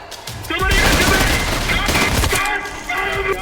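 Submachine gun fire rattles in rapid bursts during a combat encounter in the first-person shooter Trepang2, loud and dense, with distinct cracking shots layered through the fight.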